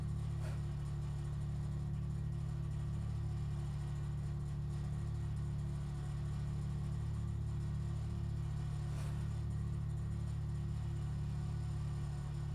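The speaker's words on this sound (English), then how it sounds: "Yeah, that's Joel's car." Joel's car engine runs as a steady, continuous low rumble with a constant hum throughout, fairly quiet and unchanging, no voices present.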